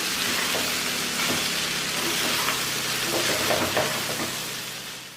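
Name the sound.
stirring flattened rice (poha) upma in a pan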